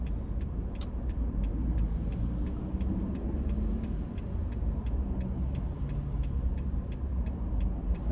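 Road traffic heard from inside a moving car, a constant engine and tyre rumble with a regular faint ticking throughout and no voices.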